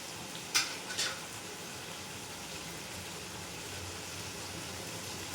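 Spices and cashews sizzle and fry in oil in a pan as they are stirred, a steady close hiss with two brief sharp scrapes early on.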